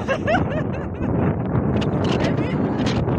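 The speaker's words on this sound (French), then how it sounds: "oui, il y a du vent" Wind buffets the microphone on a rocky mountain summit, a loud, continuous rumbling roar with gusty surges, while a person talks over it.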